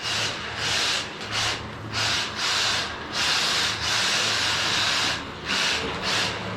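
A 1/43 scale RC car drifts and power slides around an indoor track, giving a close, hissing scrub of tires in repeated bursts separated by short pauses, with a faint motor hum underneath.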